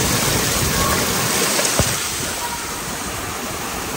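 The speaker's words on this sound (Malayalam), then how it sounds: "പുറത്ത് നല്ല മഴ കേട്ടോ, നല്ല മഴ പെരുമഴയാണ്" Heavy rain pours steadily outdoors, a dense continuous hiss like a downpour on surfaces, close and loud throughout with one brief knock partway through.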